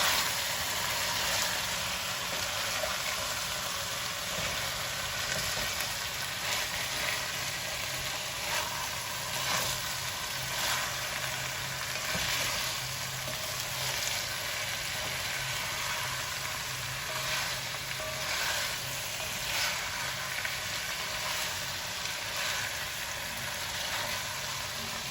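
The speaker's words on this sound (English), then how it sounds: "And fry it a little further." Masala with coriander powder fries in a pan, giving off a steady, dense sizzle that continues without pause, with occasional faint scraping from stirring and no voices.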